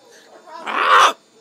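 A pet bird lets out a loud, harsh call lasting about half a second, close by indoors, rising out of quieter background sounds and then cutting off abruptly.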